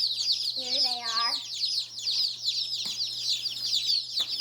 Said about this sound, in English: Just got back from picking up the chicks.